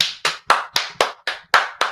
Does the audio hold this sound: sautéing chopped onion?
no